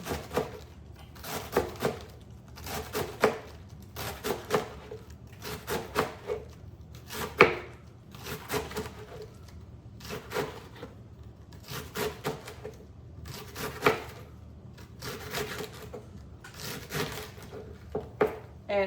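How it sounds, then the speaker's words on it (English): Knife chopping lettuce on a cutting board during meal prep, a steady run of close, crisp thuds in quick bursts with short pauses between them. "I'm just chopping up all this lettuce"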